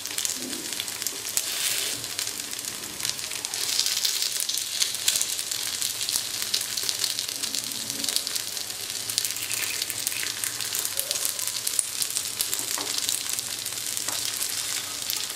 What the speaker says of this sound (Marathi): छान आपण सगळ्या साईडून शेकवून घ्यायचे आहेत हे आपे